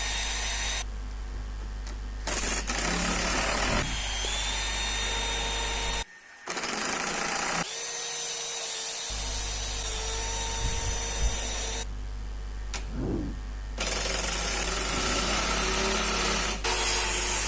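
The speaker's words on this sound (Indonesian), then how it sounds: "sama dia dibor dulu sebelum dipasang skrup" Power drill boring into scrap wood for a small table before screws go in, a loud steady whine running almost continuously with two brief pauses and no talk.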